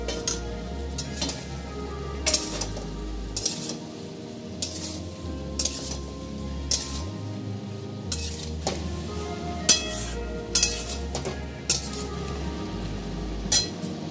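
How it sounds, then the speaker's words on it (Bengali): Chicken pieces fry in a pan for chilli chicken, a continuous sizzle with repeated spoon stirs and clinks against the pan at irregular intervals, close and moderately loud. "এবার আমি চিকেনটা দিয়ে দেবো।"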